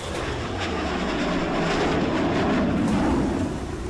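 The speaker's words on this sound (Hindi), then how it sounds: "जेट इंजन की दहाड़ सुनिए। इस गड़गड़ाहट के साथ दोनों मिराज टेक ऑफ करते हैं" Two Mirage 2000 fighter jets take off with a loud, steady jet-engine roar that swells slightly and holds broad rumble throughout, with no voices.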